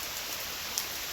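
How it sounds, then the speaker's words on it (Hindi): Heavy rain falling as a steady, even hiss, fairly faint and continuous, with no voices. "बारिश ही बहुत ज़्यादा है"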